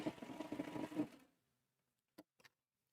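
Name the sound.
Baby Lock Triumph serger sewing on air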